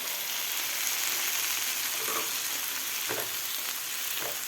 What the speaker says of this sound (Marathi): आता टोमॅटोसुद्धा आपल्याला सॉफ्ट होईपर्यंत हे शिजवून घ्यायचे आहेत कांद्याबरोबर